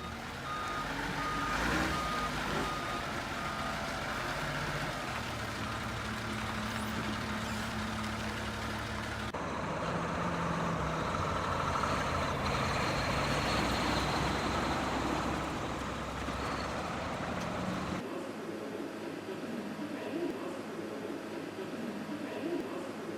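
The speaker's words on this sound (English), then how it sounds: "These bundles of timber are now loaded onto rail cars and trucks" Trucks idle and rumble steadily while timber bundles are loaded onto rail cars and trucks for a wooden boat shipyard, with reversing beeps repeating over the engine noise throughout.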